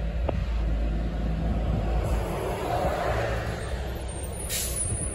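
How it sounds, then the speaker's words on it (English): A retired city bus working as a Navy Exchange military shuttle rumbles close by with a loud steady engine drone, and a hiss of air brakes rises near the end. "Oh, look at that. An NEX shuttle."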